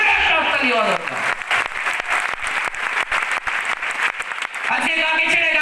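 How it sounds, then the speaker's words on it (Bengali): An indoor audience gives a strong, dense round of applause for an honoured guest at a gathering, loud and sustained with a voice speaking over the start and end. "স্যারের জন্য আমি চাইবো জোরে একটা হাততালি হওয়া দরকার।"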